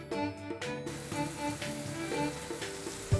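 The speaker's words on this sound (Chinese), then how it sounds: "猪油滋滋作响" Rice cakes frying in sizzling lard with seafood and Chinese broccoli at a Chaoshan fried rice-cake shop, a quiet continuous sizzle under music with a faint knock near the end.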